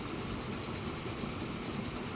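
An A35 train runs in Transport Fever 2 with a steady, dense rumble and faint rhythmic clatter. The noise holds an even level for about two seconds with no voices.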